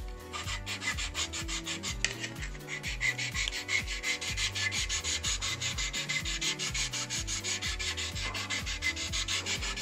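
Steady back-and-forth rubbing of a 600-grit sanding sponge over a model aircraft fuselage, rhythmic and close, with no voices.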